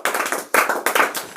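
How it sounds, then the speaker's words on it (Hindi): Students clapping hands in a classroom quiz, a quick burst of sharp, close claps in uneven groups. "चलिए ताली बजाते रहिएगा"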